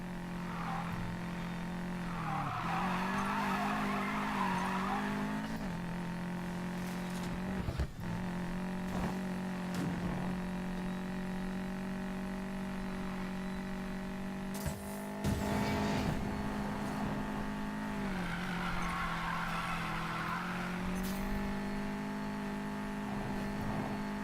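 A 1965 Chevrolet C10 off-road build drives in NFS Payback, its engine holding a steady, loud drone with rising revs and brief surges throughout, with no talk.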